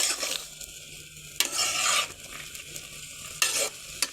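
A spoon stirring potatoes, peas and cauliflower in a pan, with soft sizzling underneath and a few bursts of scraping and clattering against the metal, fairly quiet and with no talk.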